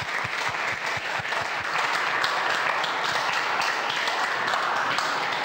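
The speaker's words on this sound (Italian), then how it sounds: "ti ringraziamo, ovviamente con un applauso" Applause from a parish community gathered for a catechesis session, a steady wash of many hands clapping throughout, with a few distinct nearer claps at the start.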